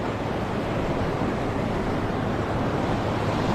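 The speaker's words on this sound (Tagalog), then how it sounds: "Maalon pa naman." Rough sea surf rolling onto the shore at a fishing spot, a steady, dense roar of breaking waves and wind close by, with no voices.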